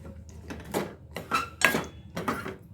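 A spoon scrapes and knocks in a pot while dry fruit is mixed into melted jaggery and rice, giving four separate bursts of clattering metal on metal spaced evenly apart, close and moderately loud.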